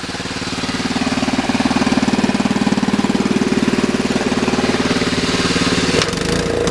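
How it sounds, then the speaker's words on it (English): A Kohler engine drives a log splitter with a steady, loud thumping chug close by, swelling slightly under load before a clunk near the end. "Kohler's a good motor"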